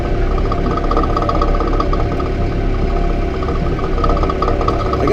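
A Massey Ferguson 4710 tractor engine drones loud and close in a continuous, steady rumble with a persistent mechanical hum throughout.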